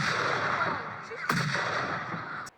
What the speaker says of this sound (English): those cannon thingies that go boom boom